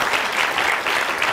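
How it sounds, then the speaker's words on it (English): A burst of audience applause, many hands clapping together in a brief, lively wave. "Round of applause."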